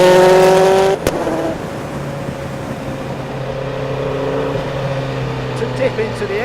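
A 217 mph Bentley Speed 8 Le Mans-winning race car driving, a loud engine whine that drops sharply after a second into a steadier lower drone with wind rush, a voice speaking over it.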